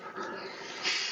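Dogs whimpering and yipping faintly in the background as they are let out, a soft, continuous whine with no clear separate barks.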